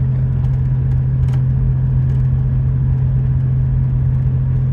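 A small two-wheel drive pickup truck climbs a steep, narrow mountain road in the Eastern Sierra, its engine a loud, steady low rumble heard from inside the cab, with no speech.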